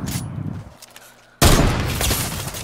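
Sniper rifle gunfire in Fortnite: a single sharp, loud shot cuts in after a quieter stretch, followed by a sustained burst of noisy game action.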